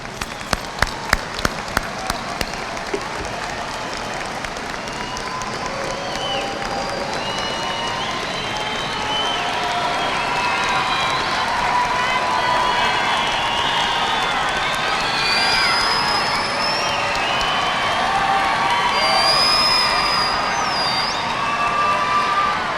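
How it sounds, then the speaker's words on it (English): A large audience at a high school graduation claps and cheers steadily, rising into a sustained roar with scattered whoops and shouts, loud and filling the space. "give them a round of applause, please"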